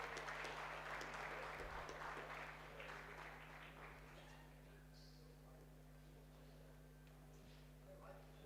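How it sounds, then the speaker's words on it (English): Audience at an architecture event clapping, a fairly distant, quiet patter that fades out over several seconds against a steady hum, with some voices in the room. "Round of applause for architect Monish Rirapuru."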